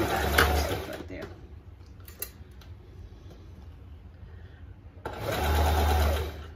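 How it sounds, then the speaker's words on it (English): Sewing machine zigzag stitching on a chiffon costume skirt for a dance costume: a close mechanical whir at the start, then a quiet gap, then a second loud run near the end. "I'm going to zigzag it actually on a 4 length and a 3 width"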